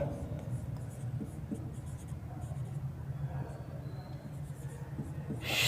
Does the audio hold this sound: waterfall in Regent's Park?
no